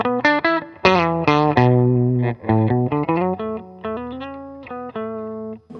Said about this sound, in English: That's an Octaver by T-Rex.